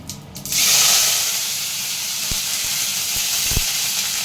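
Curry leaves hit hot oil with a sudden loud sizzle that swells into a steady, close hiss, with a couple of faint clicks from a pan while preparing potato bhaji.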